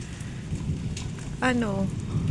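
Steady rain patters on a surface on a rainy morning, a continuous soft hiss throughout, with a brief tonal voice-like sound rising over it midway.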